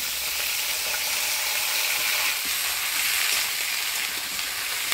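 Beans and eggplant fry with black cumin in a hot pan, a loud continuous sizzle and hiss that holds steady throughout with no voices.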